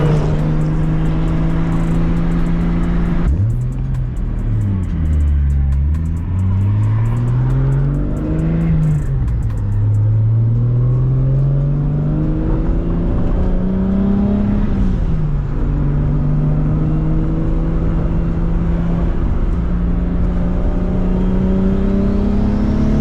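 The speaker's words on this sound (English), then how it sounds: "The car is driving completely fine." A 2JZ-swapped Nissan 370Z drives steadily with a loud, close engine drone, the pitch rising and falling through gear changes and accelerations over a long stretch of road noise.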